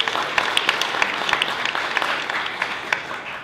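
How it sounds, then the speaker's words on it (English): Audience at a state government policy forum applauding, a sustained crowd clapping with scattered sharper individual claps popping out, moderately loud and even across the room. "I also want to give a round of applause to Juliet."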